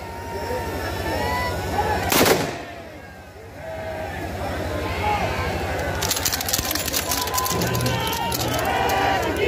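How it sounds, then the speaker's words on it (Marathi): Ceremonial cannons fire a salute at a religious leader's funeral: a loud, sharp blast early on, then a cluster of booming reports later, over a sustained crowd murmur and voices. "तोफांची सलामी सन्माननीय गार्ड ऑनर ऑफ गार्ड इथे देण्यात येत आहे."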